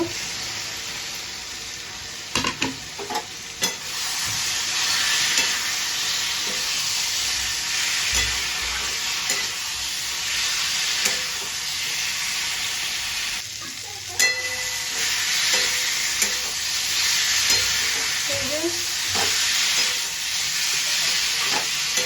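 Pointed gourd and potato pieces fry in hot oil in a pan with a steady, loud sizzle, broken by repeated scraping and clattering stirring strokes throughout, with no voices.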